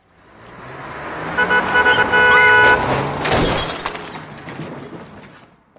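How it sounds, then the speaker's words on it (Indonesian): A car horn honks in a quick series of loud toots as a car rushes close by, followed by a crash of glass bottles shattering, from a film scene. "mobil itu membunyikan klakson dan hampir saja menabraknya"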